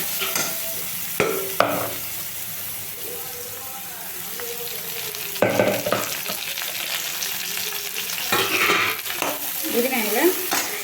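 Onions, green chili and ginger-garlic frying in peanut oil with cinnamon and cloves for Chettinad mushroom biryani, a close sizzle broken by loud scraping stirs and some clattering, with a voice speaking briefly in places.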